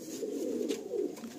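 A black pigeon cooing close by, a low, soft, continuous warble over about a second and a half.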